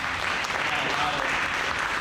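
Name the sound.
audience applause for Ray, Coco, and Smash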